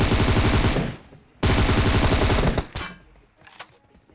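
Automatic gunfire sprays in the PUBG video game as two rapid, loud bursts of closely spaced shots, separated by a short pause, followed by a few scattered single shots and quieter sounds.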